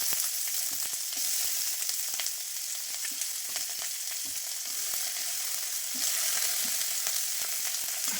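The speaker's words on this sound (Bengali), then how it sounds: "তার মধ্যে দিলাম পেঁয়াজ আর লঙ্কা।" Sliced onions and green chillies frying in hot oil, a close, steady sizzle with a scatter of crackles and occasional stirring taps from the pan, and no voices.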